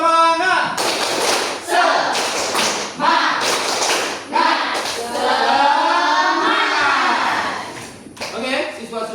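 A class of 11th-grade students performs a rhythmic spirit clap in a classroom, a loud patterned series of hand claps and desk taps in bursts, mixed with children's chanting voices.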